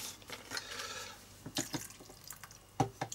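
Water poured into a paintbrush cleaning pot for mixed media art, a faint trickling splash with a few small drips near the end.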